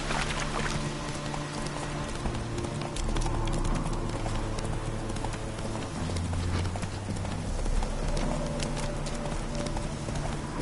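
Horse hooves clip-clop steadily in The Witcher 3 video game, a continuous rhythmic trot heard up close over layered game music and ambience.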